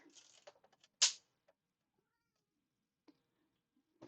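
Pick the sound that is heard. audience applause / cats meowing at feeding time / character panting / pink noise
cats meowing at feeding time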